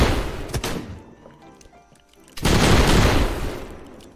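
Gunfire in the Roblox video game: two sharp bursts of shots, the second loud and sustained, with quieter pops scattered between them.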